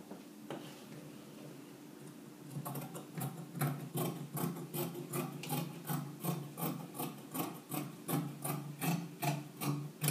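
Scissors cutting through lace fabric for an off-shoulder blouse, a close, steady run of rhythmic rasping snips that repeat evenly after a quiet opening.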